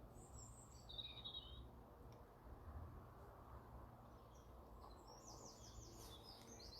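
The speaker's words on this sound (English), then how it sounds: "Can you hear the birds singing?" Birds sing and chirp outdoors in a garden, scattered calls near and far over a steady low background rumble.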